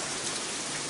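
Heavy downpour of rain pouring steadily outdoors where raccoons gather, a dense, loud, continuous hiss of water with no break.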